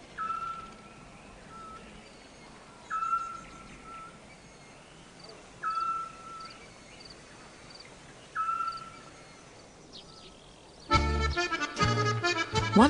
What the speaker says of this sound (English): Just before dusk, a strange sound starts and continues all night, a rhythmical call like a giant insect.